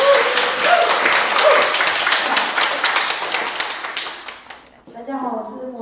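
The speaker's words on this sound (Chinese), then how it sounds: "一个热烈的掌声" Applause from a church congregation during a Sunday worship service, a dense burst of many hands clapping that swells, holds for several seconds, then fades and gives way to a single person beginning to speak.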